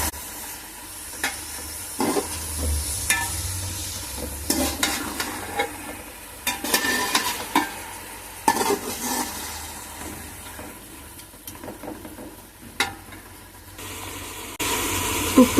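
Chicken biryani masala sizzles in a pan while a spoon stirs and scrapes it at intervals, making clattering strokes over a steady frying hiss, close up and with no voices.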